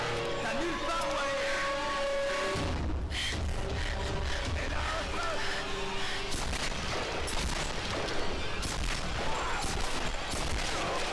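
Gunfire in the video game Tomb Raider, bursts of shots and heavy impacts running under a wide, steady game soundscape, with a voice talking through part of it.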